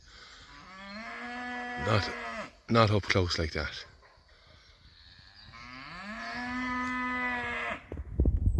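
Shorthorn cattle outwintering on an Irish farm moo loudly and close, several long drawn-out calls with a short break between them, while a person speaks briefly in the middle.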